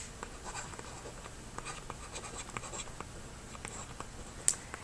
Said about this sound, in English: Now I'm ready to write the first two reactants.